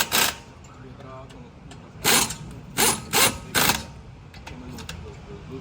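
An impact gun tightens lug nuts on a BMW wheel in a series of short, loud rattling bursts: one at the start, then four more in quick succession. Someone talks in the background between the bursts.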